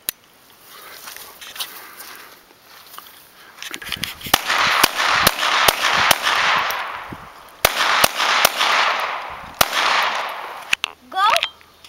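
A GSG 1911 pistol fires a quick string of sharp, loud shots outdoors, several cracks in two bursts with brief pauses, followed by a few quieter clicks.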